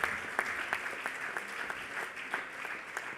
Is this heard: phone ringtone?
no